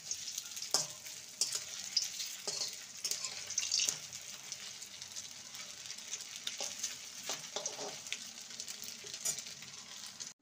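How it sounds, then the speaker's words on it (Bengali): Semolina snacks frying in oil, a close steady sizzle broken by sharp crackles and utensil clicks as pieces are turned, with no speech. "এক দিকটা ভাজা হলে অপর দিকটা উল্টে দেব।"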